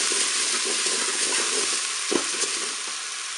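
Rice sizzles in a Cookeo pot, a steady close frying hiss with a few stirring scrapes, and no voices.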